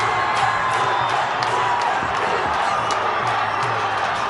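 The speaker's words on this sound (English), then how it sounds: "The crowd is going crazy." A football stadium crowd roars and cheers continuously at a Bhutan versus Sri Lanka World Cup qualifier, a dense, distant-sounding wall of voices with scattered whoops and sharp bursts.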